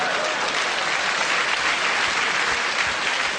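A comedy show audience claps in a thick, continuous wash of applause at a stand-up performance, loud and even throughout with a faint crowd murmur beneath.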